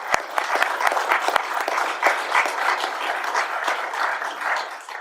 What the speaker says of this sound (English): Let's give her a big round of applause and welcome her today.